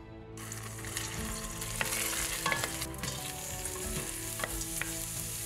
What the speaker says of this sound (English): now let's move to the pot and we're gonna start frying this